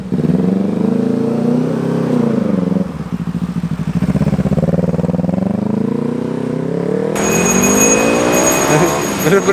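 A Kawasaki Ninja motorcycle on a test ride, engine loud and near, revving up and down with rising and falling pitch, a sharper high-revving burst toward the end; the rider's voice may be faintly mixed in.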